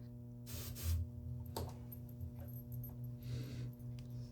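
Hairspray sprayed from an aerosol can, two short soft hissing bursts a few seconds apart over a steady low electrical hum.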